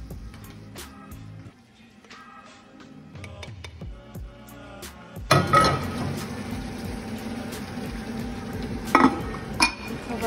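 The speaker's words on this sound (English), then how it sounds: "now we're mixing the shrimp with the onions and a little bit of tomatoes" Shrimp with onions and a little tomato is stirred in a pan: quiet utensil clinks and scraping at first, then a louder sizzling frying noise with sharp metallic taps against the cookware.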